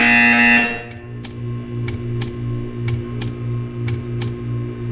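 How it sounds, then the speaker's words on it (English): A tone cuts off after a second, then a series of short evenly spaced clicking beeps from a buzzer in the video game Portal 2 repeats over a steady low hum. "You will hear a buzzer."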